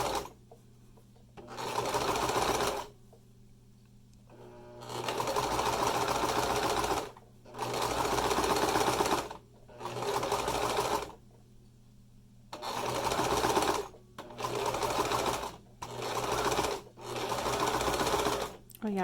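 A sewing machine stitches a fabric 3D face mask in repeated runs of a few seconds each, separated by short pauses, loud and close.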